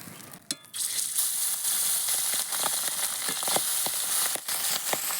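Fish frying in a kadai gives a steady, loud sizzle throughout, with scattered crackles and pops over the continuous hiss.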